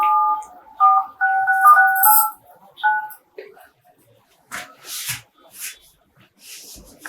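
Telephone call being placed: a few short electronic dialing tones followed by a ringing pattern, then people talking over sparse handling noises.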